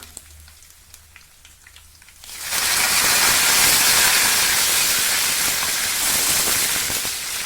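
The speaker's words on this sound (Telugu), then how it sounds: "ఎండుమిర్చి, కరివేపాకు కూడా వేసి కొంచెం ఎర్రగా ఫ్రై చేసుకోవాలి." Dry red chillies and curry leaves drop into hot oil and burst into a loud, steady sizzling hiss that runs to the end, after a quiet opening moment.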